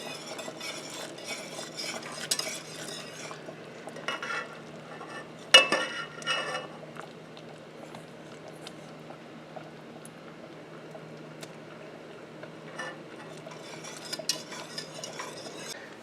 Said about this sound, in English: go ahead and stir that in because you want it to melt